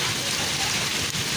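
Heavy rain pours down in a Pakistani village, a loud, dense, continuous hiss of drops striking surfaces, with no talk over it.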